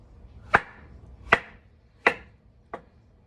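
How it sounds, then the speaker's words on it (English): A knife strikes a cutting board four times in slow, evenly spaced chops while dicing papaya into very small pieces. The sound is close and crisp, with no voices. "I'm gonna need very small dices of papaya."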